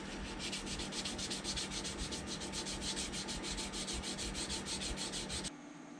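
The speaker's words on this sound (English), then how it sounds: "I've been sanding it down with, you know, I roughed it in with my 180" Putty on a 1:350 scale Polar Lights TOS Enterprise model kit is sanded by hand with 180-grit paper, making rapid, even rasping strokes in a steady rhythm that stop abruptly near the end.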